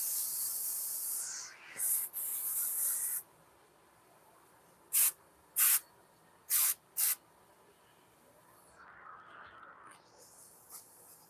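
A spray bottle lightly mists a fig cutting in a grow tent, several short close hissing bursts, two longer ones and then four quick spritzes, over quiet room tone.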